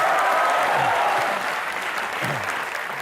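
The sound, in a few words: studio audience applause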